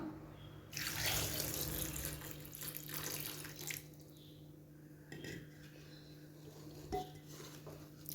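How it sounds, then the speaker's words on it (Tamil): Water runs from a tap into a bowl as Indian gooseberries are swished and rubbed by hand, with occasional clinks of the container. "இப்போ நெல்லிக்காயை வந்து ரெண்டு தண்ணி நல்லா வாஷ் பண்ணி எடுத்துக்கலாம்"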